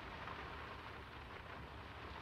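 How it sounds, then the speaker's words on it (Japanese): Rain falls steadily in the Draugen game at dusk over a village, a faint, even hiss of downpour that holds unchanged throughout with no voices. "It's getting late, and the rain's not abating."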